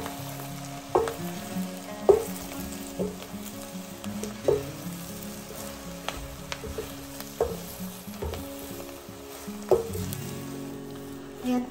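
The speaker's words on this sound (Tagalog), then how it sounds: "so I'll put the tofu. And then, saute lang natin siya ng konti" Tofu sautéing with softened onion in a hot pan gives a steady sizzle and fry, punctuated by periodic scraping stirs roughly every second or two, close and alone with no talking.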